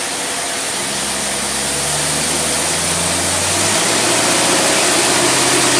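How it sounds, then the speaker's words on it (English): An engine with a Motorcraft two-barrel carburetor roars loudly and steadily, its pitch climbing as it revs harder under load before settling, with constant broadband noise throughout. "we start going ahead and putting a load on it and revving it up"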